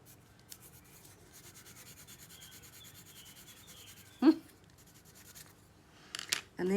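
Soft scratchy strokes of a soft graphite pencil (7B–8B) on paper, repeated in a steady back-and-forth rhythm, close and quiet, ending with a few louder scuffs.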